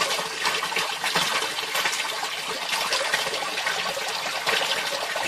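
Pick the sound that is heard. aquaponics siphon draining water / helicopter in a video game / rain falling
aquaponics siphon draining water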